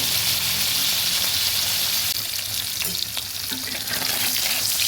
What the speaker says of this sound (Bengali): আমার মাছগুলো উল্টো পাল্টে ভেজে নিয়েছি